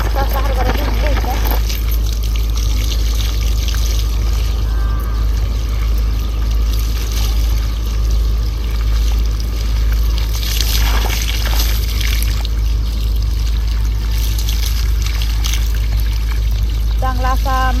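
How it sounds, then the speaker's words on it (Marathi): Green chickpeas are washed in water, with continuous sloshing and pouring close by and occasional light knocks of the vessel, over a constant low background hum. "चांगला असा मोकळ्या पाण्यात हरभरा धुवून घेतला"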